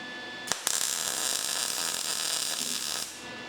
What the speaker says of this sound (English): So we're gonna weld the bottom there.